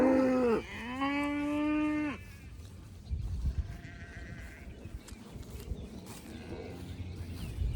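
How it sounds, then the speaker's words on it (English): A cow lets out a long, loud moo near the start, followed by quieter farmyard rustling and faint distant animal calls. "right, happy cows."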